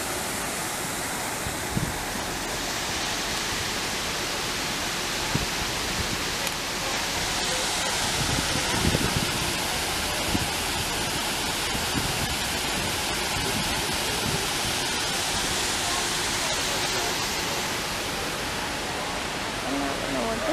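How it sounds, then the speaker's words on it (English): Steady, broad rushing of falling water fills the whole stretch, a constant dense roar with no pauses. "Waterfall."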